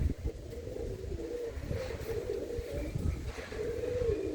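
Pigeons coo in a loft, low throaty rolling calls repeating close by over a busy, rustling background.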